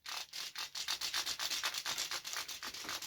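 The jointed limbs of a Legacy Armada Megatron figure are worked back and forth, giving a quick run of dry clicking ratchet bursts in a steady rhythm. The sound is close and fairly quiet, with no talk.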